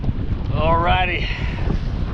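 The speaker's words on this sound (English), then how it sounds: "The wind is definitely picking up." Strong wind gusting over open water from a fishing boat on a bay with whitecaps, a steady loud rushing roar buffeting the microphone throughout, with a brief whistling tone in the middle.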